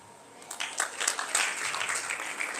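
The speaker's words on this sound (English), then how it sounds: "round of applause for the registrar" An audience at a university freshmen orientation breaks into applause for the registrar, the clapping starting quietly and building into a steady, moderately loud crowd sound.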